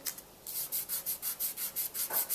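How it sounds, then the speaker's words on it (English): Masking tape is rubbed back and forth across an ink pad in about ten quick, even strokes: soft, close, dry scuffing with no voices. "just rub it into the pad, like so"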